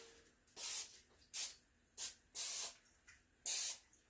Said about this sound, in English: I'm just going to spray this a little bit.